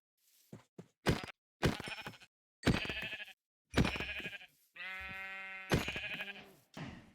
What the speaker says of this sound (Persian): خدا شکر چند تا گوسفند اینجا هستن.